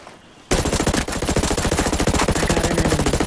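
Sudden, loud bursts of rapid automatic gunfire erupt in Ghost Recon Breakpoint PvP after a brief quiet moment and keep rattling steadily to the end.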